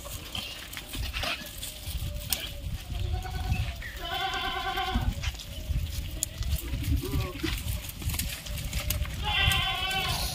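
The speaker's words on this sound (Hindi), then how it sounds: "दिखा देता हूँ मैं आपको बिल्कुल नज़दीक से एक एक बकरा।" Sojat goats bleat at a goat farm in Pipar, Rajasthan, two clear drawn-out bleats standing out over a busy background of someone talking and farm noise.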